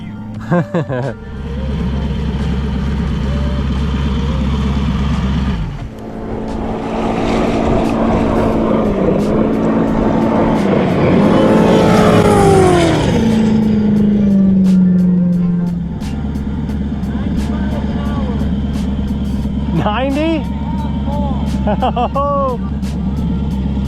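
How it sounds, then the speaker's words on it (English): Turbocharged LS V8-powered jet ski running at over 90 mph on open water, a loud sustained engine roar that swells and sweeps in pitch as it passes, with lower engine drone before and after. "After just 2 runs on the turbocharged LS V8 powered jet ski, Josh was able to get 90 miles an hour."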